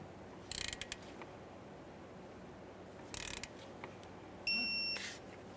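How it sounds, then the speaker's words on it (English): A torque wrench tightens a front brake hose fitting on a 2013-2020 Ford Fusion, producing two short bursts of rapid ratcheting clicks and then a brief metallic click as it reaches torque. The clicks are faint and sit over quiet background noise. "Snug it up, torque it to 18 foot-pounds."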